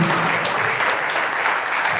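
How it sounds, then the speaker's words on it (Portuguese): Steady, loud applause from a church congregation fills the whole moment, a continuous wash of clapping with no pauses. "Palmas para esse Jesus querido."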